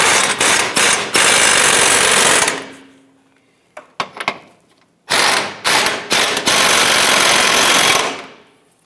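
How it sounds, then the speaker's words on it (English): An impact wrench tightens the rear subframe bushing bolts on a 2008-2013 Nissan Rogue in loud rattling bursts, a long burst, several short stabs, then another long run, close up with no talk. "We'll tighten down the rear subframe bushings first."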